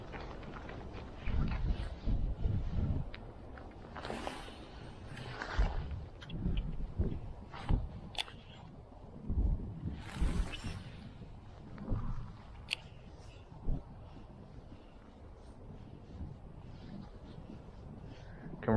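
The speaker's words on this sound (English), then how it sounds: "Can really feel that wind picking up now" Strong, gusty wind blows during pike fishing with lures on a river, buffeting the microphone in irregular rumbling surges that rise and fall across the whole stretch, with no one talking.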